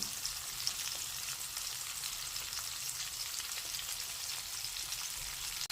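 Hilsa fish frying in plenty of released oil, a soft, steady crackling sizzle with fine pops, fairly faint and even from start to finish.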